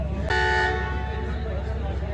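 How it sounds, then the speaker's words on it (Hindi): A loud, sustained departure horn from the Ghouri Express blares from nearby, holding a steady tone for about a second before fading into rumbling station noise. "तो दूसरा डिपार्चर हॉर्न हो चुका है"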